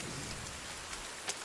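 Steady rain falls in the survival video game The Forest, a continuous even hiss with a few faint drop taps, heard alone.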